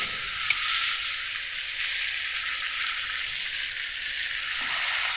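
Broiler chicken meat sizzling in a pan after a splash of water is added and it is stirred, producing a loud, continuous hiss with no talking.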